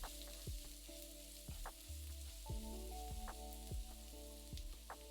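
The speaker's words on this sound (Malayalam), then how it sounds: "ഇതെല്ലാം കൂടിയിട്ട് മസാലയുടെ പച്ചമണം മാറാൻ 1 മിനിറ്റ് വഴറ്റുക" Turmeric, pepper, garam masala and chilli powder sizzle in hot oil for a Kerala carrot mezhukkupuratti, with repeated clinks and scrapes of a stirring spoon against the pan over a steady frying hiss, close up and without speech.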